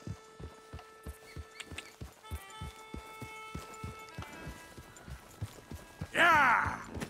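Horses walking in Red Dead Redemption 2, steady clip-clopping hooves in a regular rhythm at moderate distance, ending with a loud whinny near the close.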